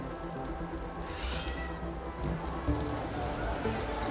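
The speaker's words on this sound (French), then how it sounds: "Là, il y a mon chat encore." A house cat meows nearby, a few short, faint cries under a steady wash of video game sound and background noise.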